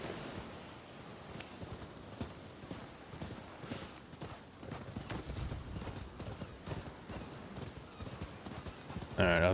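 Horse hooves clip-clop steadily in the video game Rise of the Ronin, a continuous trotting patter at moderate loudness over faint background game ambience.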